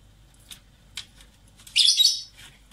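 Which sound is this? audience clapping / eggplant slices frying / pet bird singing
pet bird singing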